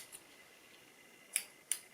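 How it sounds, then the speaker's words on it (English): Scissors snip twice through fly-tying material at a tying bench, two crisp, close cuts near the end after a quiet stretch with a faint tick at the start. "cut off the end"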